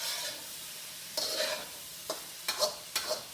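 Mushrooms and apple cooking in a pan, a low sizzle broken by several scraping stirs of a utensil in uneven bursts, close and fairly quiet, no voices.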